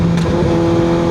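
Kawasaki ZX6R sport motorcycle fitted with an M4 exhaust, baffle removed, giving a loud steady engine drone with a sustained tone and no talk.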